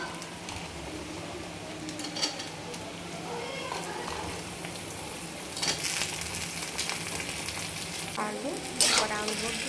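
Potatoes frying with spices in a pan give a low, continuous sizzle with occasional louder bursts and utensil clatter, while a voice talks faintly in the background.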